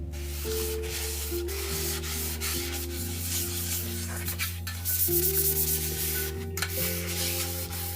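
Continuous abrasive rubbing of sandpaper against a hard tumbler cup surface, steady and close, with a constant tonal hum running underneath throughout.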